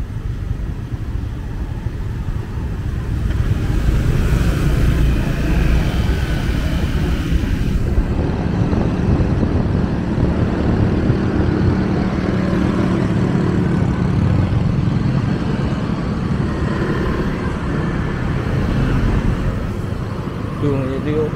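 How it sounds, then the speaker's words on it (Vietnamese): Morning street traffic rolls along Trần Văn Trà road in Phú Mỹ Hưng, District 7, Saigon, a steady broadband rumble of passing cars and motorbikes that grows louder midway, with a voice talking over it. "Đường thì đi ô tô không luôn rồi, nghe có vậy"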